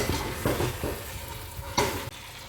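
Chicken curry is stirred in a pot over the heat, a soft simmering sizzle running underneath as a utensil scrapes through the sauce in a few distinct strokes, close and fairly quiet with no talking.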